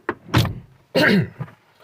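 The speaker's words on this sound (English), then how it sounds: "Sorry for that noise. I had to open a door." A door being opened indoors, with a couple of short clunks and a longer rattling, scraping burst in the middle, loud and close with brief quiet gaps between.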